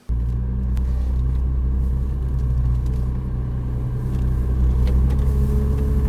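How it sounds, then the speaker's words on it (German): Low, steady engine rumble from a 1996 Volkswagen Golf 3 VR6 as it is driven out, a continuous close idle-like drone that swells slightly near the end. "Ich fahre den jetzt mal raus, damit wir uns den jetzt als allererstes mal von unten anschauen können"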